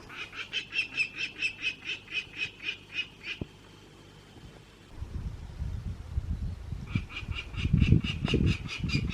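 Geese honk in a rapid repeated series, pause, then resume loudly over rustling and low rumbling noise nearby, on the Runa mountain pasture in Ukraine during a solo bicycle hike.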